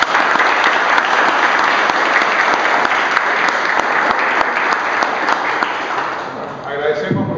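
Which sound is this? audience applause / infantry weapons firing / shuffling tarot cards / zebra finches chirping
audience applause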